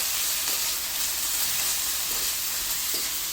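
Ginger and garlic paste fries in a hot pan with a loud, continuous sizzle and hiss. Faint stirring scrapes come through underneath.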